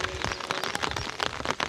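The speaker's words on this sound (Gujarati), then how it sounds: "ધીમો ધીમો વરસાદ ચાલુ થઈ ગયો છે" Light rain falling on a farm field just after sowing, a patter of close, scattered drops over steady broadband noise, fairly quiet with no voices.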